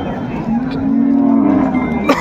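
A cow at a busy cattle market gives one long, loud, close moo lasting nearly two seconds, with crowd noise and voices around it.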